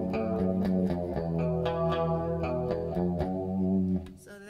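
An electric guitar plays a clean chiming chord pattern through a Neo Clone chorus pedal, giving a shimmering, wavering tone, close and steady before the notes fade out near the end.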